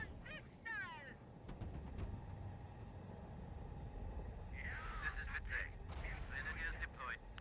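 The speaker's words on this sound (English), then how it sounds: "Get our artillery firing." Artillery pounds away in the military strategy game Tom Clancy's EndWar, its rumbling, steady bombardment running beneath bursts of chattering radio-style voices and sharp high-pitched effects.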